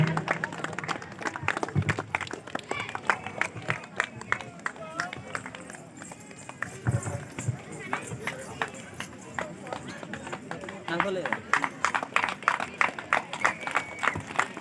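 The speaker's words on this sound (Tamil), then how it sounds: "மகிழ்ச்சியையும் பாராட்டையும் கைத்தட்டல்கள் மூலம் தெரிவித்துக் கொள்வோம்" An award ceremony audience claps in scattered bursts, sharp uneven hand claps rising and falling amid murmuring voices and background talk.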